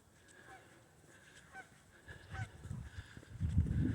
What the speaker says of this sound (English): Here's some very large, these have to be geese.